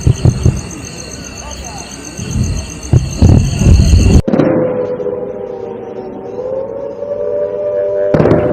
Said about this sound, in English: You can hear air raid sirens and explosions